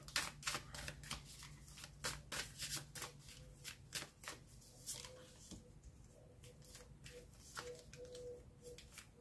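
Tarot cards being shuffled and drawn, a steady run of crisp riffling bursts close up, with a few softer slaps of cards laid down.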